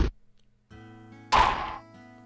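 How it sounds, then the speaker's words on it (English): A single solid thwack like a lumberjack chopping wood in the video game Higurashi When They Cry, one sharp, loud impact with a brief ringing tail over a quiet tonal game background. "A solid thwack rang from out of Hinamizawa as if the job was being done by a lumberjack"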